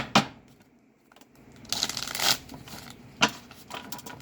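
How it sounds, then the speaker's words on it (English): Tarot cards riffle and shuffle in a few quick bursts, with soft rustling and taps between them, close by and without talk. "always shuffle 3 times"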